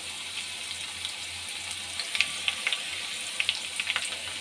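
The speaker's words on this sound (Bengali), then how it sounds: "আলুটা আমি নুন হলুদ দিয়ে অল্প একটু নুন হলুদ দিয়ে ভেজে নেব" Potatoes fry over high flame in mustard oil with salt and turmeric, a steady hissing sizzle with scattered sharp pops and crackles growing busier toward the end, close by and without talk.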